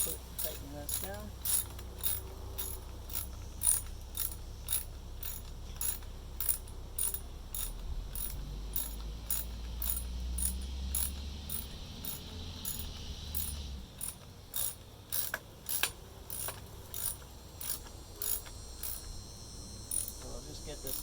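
A ratchet wrench tightening a spark plug on a 2006 Nissan Altima 2.5 S, giving long runs of fast, crisp pawl clicks in repeated bursts, close and moderately loud over a low engine-bay rumble, with no talking.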